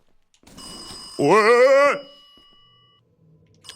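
Phone ringing in a video game, a single electronic warbling ring tone of about a second that rises sharply and cuts off, following a brief exclamation from a voice.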